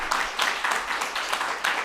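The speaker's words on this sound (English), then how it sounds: "So please give a round of applause for Ms. Eliza Kaplan" Audience applause at a public forum on brain injuries, policing and public safety: a room of people clapping steadily, a moderate, even patter with small swells throughout.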